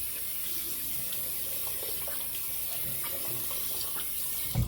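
A safety razor is rinsed under a steadily running tap, a constant bright rush of water splashing into a sink, with a brief louder splash right at the end.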